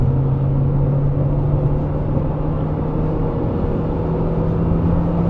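The engine of a Tata Sierra revs past 4,500 rpm, heard from inside the car as a steady droning hum with a strong low tone, held evenly throughout with no talking.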